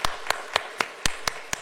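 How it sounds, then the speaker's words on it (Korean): A church congregation at a Sunday morning worship service claps together in praise: a steady, even beat of sharp claps, about seven in quick succession, with no talking over them. "에베네셀 하나님께 영광의 박수를 드립시다."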